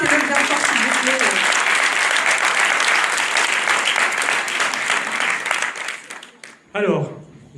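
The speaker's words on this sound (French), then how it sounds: "Donc applaudissez-le bien fort s'il vous plaît." Crowd applause at a France Insoumise municipal election meeting in Livry-Gargan, a loud, sustained wash of many hands clapping that fades near the end as a voice begins speaking.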